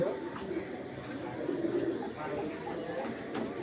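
A racer pigeon coos softly and repeatedly close by, its low rolling calls under a faint room hum.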